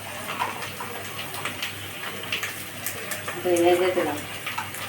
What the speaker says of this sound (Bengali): একটু জল দিয়ে দিলাম